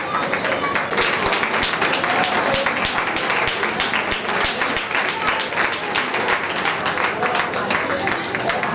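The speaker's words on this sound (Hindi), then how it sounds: "एक बार फिर से पुनः जोरदार तालियां बजाकर इनका साथ सम्मान" Audience at a Jain temple cultural program in Ladpura, Kota, breaking into loud, sustained applause, dense clapping filling the whole stretch at steady volume.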